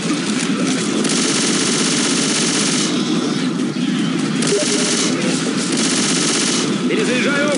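Dense, continuous automatic gunfire in Left 4 Dead 2 crackles in sustained bursts with game-like sound effects, loud and unbroken throughout.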